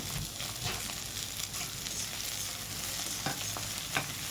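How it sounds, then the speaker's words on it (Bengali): Chopped onion frying in oil with green chili and curry leaves for masala dosa filling, heard as a steady close hiss of sizzling, broken by a few sharp scrapes and taps of a stirring spoon, with no talking. "একটু হালকা ভাজা হবে পেঁয়াজটা এইভাবে"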